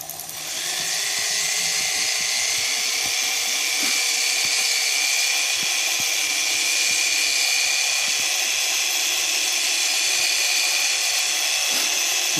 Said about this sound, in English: you're just going to keep going back and forth with your brake hone and test fit that axle until it fits just snug